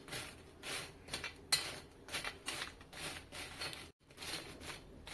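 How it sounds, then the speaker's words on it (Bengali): Crispy homemade potato french fries tossed with spices in a bowl, giving a run of dry rustling, crunchy bursts in steady pulses with a brief pause, close by and with no talking. "তো মেশানোর সময় এই আওয়াজ শুনে আপনারা বুঝতে পারছেন যে কতটা মুচমুচে আর কতটা ক্রিস্পি হয়েছে"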